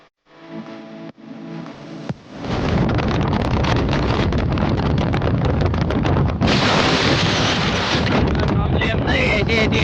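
Strong wind buffets the microphone in a loud, continuous roar that builds after a quieter start, with voices partly buried beneath it.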